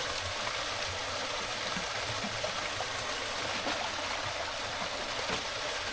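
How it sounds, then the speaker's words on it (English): A small stream trickles over a little waterfall feeding a river on a woodland trail in Durham, North Carolina, a soft continuous rushing wash that stays even throughout with no talking. "a little stream that feeds into that river. And a little waterfall."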